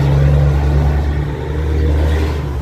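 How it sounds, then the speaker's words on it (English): Heavy trucks rumble loudly along a Chicago street, a deep continuous engine drone that stays steady throughout, close by and without speech. "These trucks are loud here."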